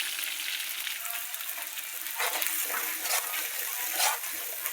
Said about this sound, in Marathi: चांगलं तेलात परतायचं.